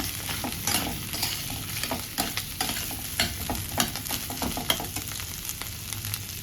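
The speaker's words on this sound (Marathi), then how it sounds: "आणि बटाटा घालायचा उकडून घेतलेला. थोडंसं परतून घ्यायचं." Boiled potato being sautéed in a pan for khichdi, a steady soft sizzle with a spatula scraping and stirring throughout, close and fairly quiet, with no talk.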